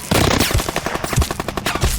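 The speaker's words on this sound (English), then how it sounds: "My squad was taking fire." Rapid bursts of automatic gunfire in a war audio drama, loud and close, with repeated sharp shots in a rattling rhythm and heavy low-end impacts.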